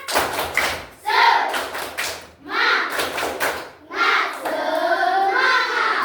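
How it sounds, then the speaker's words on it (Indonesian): A group of people clap in bursts of rhythmic, close-up beats, with short pauses between rounds and voices mixed in. "Ayo tepuk semangat."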